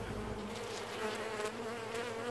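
Honeybees swarm around an open hive, making a dense, continuous buzz with a steady drone and no voices.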